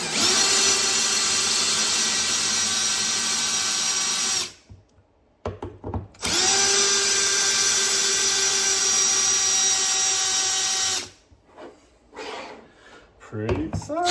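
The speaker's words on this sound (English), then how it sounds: "I'm just gonna take the screws out of this thing" A power drill backs screws out of a 3D-printed roto-molding rig, running in two long sustained whirs separated by brief handling clatter, loud and close with no talk over it.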